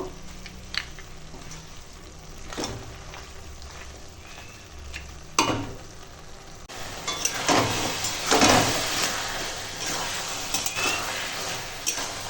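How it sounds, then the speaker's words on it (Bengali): Jute greens (note shak) with fried lentil dumplings are stirred in a cooking pan, soft scraping and clinking of a utensil against metal over a faint sizzle, close and alone, growing busier toward the end. "এখন ভালো করে একটু মিশিয়ে নেব।"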